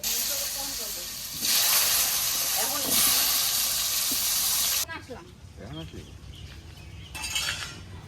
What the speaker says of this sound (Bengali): মাছের ঝোলের আলুটা একটু ভেজে নেবো এবার।